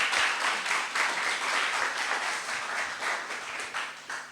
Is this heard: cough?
no